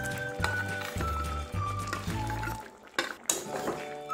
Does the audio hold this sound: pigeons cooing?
no